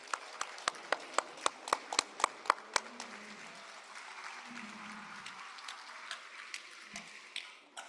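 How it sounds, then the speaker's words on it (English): A round of applause during a Memorandum of Understanding signing ceremony at a TICAD9 side event: a burst of sharp, rhythmic claps from a small group early on, fading into scattered claps and light room noise. "Shall we give them a round of applause as they are signing?"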